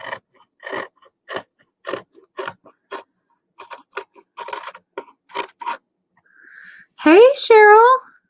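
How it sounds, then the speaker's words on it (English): Scissors cutting through quilt fabric in a run of short crisp snips, close and fairly loud, ending in a brief rustle and a high squeak. "let's go ahead and cut with these horrible scissors"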